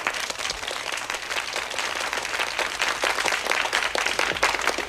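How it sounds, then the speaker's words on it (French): Studio audience applauding a guest on a French TV show, a dense, steady wash of many hands clapping that stays loud and even throughout with no talking. "On l'applaudit bien fort."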